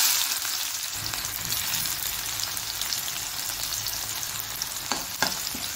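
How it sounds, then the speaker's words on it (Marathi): Onion frying in hot oil in a kadhai, a steady close sizzle and crackle throughout with a few brief clatters of stirring near the end. "कढईमध्ये तेल तापून घेतलेले आहे। तर आता मी कांदा टाकून घेते त्यात।"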